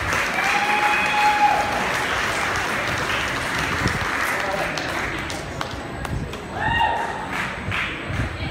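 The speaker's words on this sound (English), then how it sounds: "please give a round of applause as she comes up." Applause for a performer at a scholarship fundraising concert, a sustained crowd clapping wash with occasional thumps and a brief ringing tone, continuing steadily as voices murmur beneath it.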